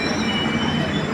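A train at Lamding railway station rumbles past with steady rolling wheel noise and a faint metallic squeal, close and continuous, with no talk.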